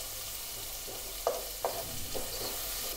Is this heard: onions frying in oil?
yes